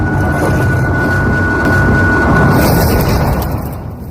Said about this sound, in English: I think the wither broke through a nearby wall. That's why you can hear his attack screech, and then a big explosion.